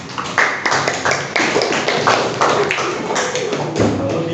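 A group of students applauds a classmate in a classroom, a steady patter of many hands clapping close by for several seconds with a fairly even rhythm.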